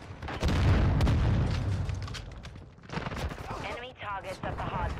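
Lachman 556 rifle gunfire in Call of Duty MW2 multiplayer: dense, loud bursts of shots and booming blasts crowd the first seconds, then thin out into sparser game sounds and chatter as the firing fades.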